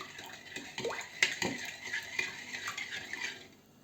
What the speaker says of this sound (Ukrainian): щоб розчинити це все, цукор і сіль розчинити. І ми все це розмішуємо.